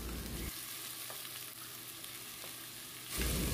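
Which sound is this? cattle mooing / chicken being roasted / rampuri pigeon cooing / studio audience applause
chicken being roasted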